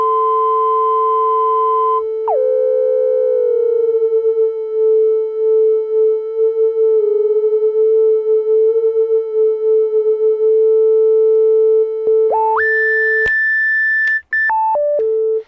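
A Minimoog's filter self-oscillates as a pure sine tone near 440 Hz, steady and loud for several seconds with slight wavering, then stepping through a few higher pitches at the end.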